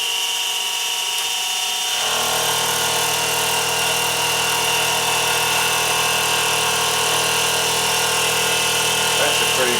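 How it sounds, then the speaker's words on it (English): A metal milling machine spins up and climb mills metal, a loud steady whine with tonal harmonics that starts abruptly and holds evenly, close up with no talking. "And then climb milling here."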